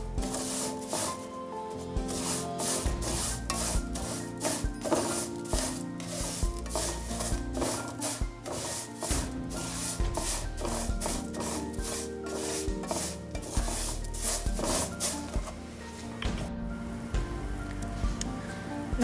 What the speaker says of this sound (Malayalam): ഞാൻ വെർമസലി ഇടുക, നല്ലോണം ഇളക്കി കൊടുക്കുക.